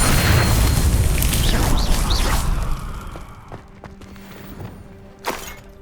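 A fire-spell explosion from the Hogwarts Legacy game bursts loud and broad at the start, then its rumble fades out over a few seconds, leaving quieter game sounds and a short thud near the end.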